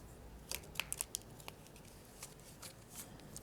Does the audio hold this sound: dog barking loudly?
no